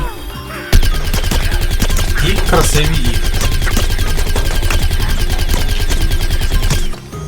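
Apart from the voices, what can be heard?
gunfire in a video game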